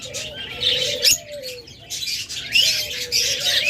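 Caged pet lovebirds, budgerigars and cockatiels chirp and tweet nearby in short bursts, with a soft cooing call mixed in and a light flutter of wings.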